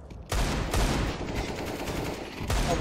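Gunfire in CS:GO crackles in loud, close bursts, with sharp shots at the start and end around a sustained rattle.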